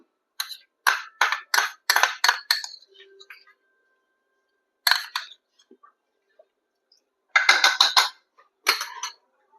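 A spoon mixing garam masala and ghee in a pot while cooking mutton. It gives clustered clinks and scrapes in short bursts, with silent gaps between them.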